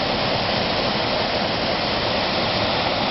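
Small waterfall about three metres high pouring into the sea beside the Doha Corniche, a loud, steady, close rush of falling water with no break.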